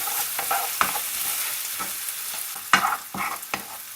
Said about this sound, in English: And then a nice wedge of butter. And we'll get that stirred in.